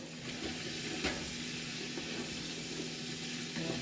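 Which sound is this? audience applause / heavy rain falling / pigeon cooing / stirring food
stirring food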